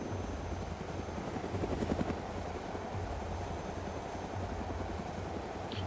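A helicopter in the DayZ survival game drones with steady rotor chop and engine rumble, loud and continuous throughout with a rhythmic low thumping and no break.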